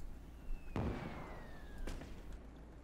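Artillery fires in the World War II strategy video game Call to Arms: two heavy booms about a second apart, with a thin descending whistle running between them over low background rumble.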